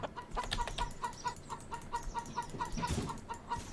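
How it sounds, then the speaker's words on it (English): Chickens cluck in Bear Simulator, a short run of repeated clucks and calls at a steady, moderate level with no voices over them. "Ooh, more chicken."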